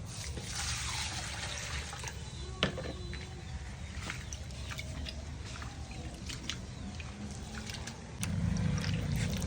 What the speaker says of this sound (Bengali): ডাল আমি সুন্দরভাবে ধুয়ে ভিজায় রাখবো ডালগুলো আগে সুন্দরভাবে ধুয়ে নেবো